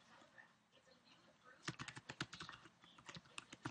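Fast, close keystrokes rattle on a computer keyboard as a command is entered, starting faint and building into a steady run of clicks with a voice murmuring underneath.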